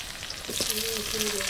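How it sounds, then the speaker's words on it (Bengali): Potato pieces fry in a pan while a ridge gourd dolma is cooked, a close steady sizzle with a voice speaking over it. "আলুগুলো দেখো ভালো করে ভাজা হয়ে গেছে"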